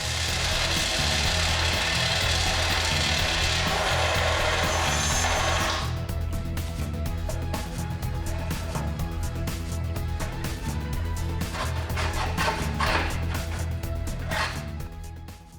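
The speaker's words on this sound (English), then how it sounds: "Time to drill the holes for the jack shaft." Power drill boring holes through a dirt bike frame for a jack shaft mount on a Honda three-wheeler conversion build, a steady close whine running throughout, rougher and broadband at first, then a lower hum with intermittent bursts.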